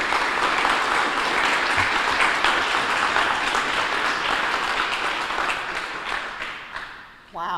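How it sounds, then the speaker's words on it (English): Audience applause at a community foundation's fall grant ceremony: sustained, dense clapping from a large crowd that holds steady for several seconds, then tapers off near the end. "Give yourselves a round of applause."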